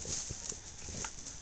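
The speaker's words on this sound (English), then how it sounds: "There's the goat in the background." Goat hooves clatter irregularly against a hard surface as goats roughhouse, a busy scuffling patter over steady background noise.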